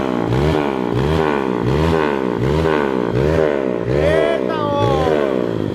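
A Honda Biz motorcycle engine bored to 240cc revs repeatedly in rising and falling waves, close and loud, while a man calls out briefly.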